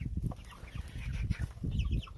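A Black Copper Marans hen clucks nearby in a series of short, low, uneven clucks in quick succession.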